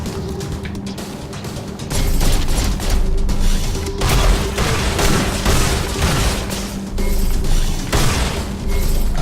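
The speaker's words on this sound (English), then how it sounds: "Oh, gunfire?" Gunfire in the side-scrolling video game The Fall, loud bursts of rapid shooting and booming blasts that keep going in waves over roughly nine seconds, with no voices.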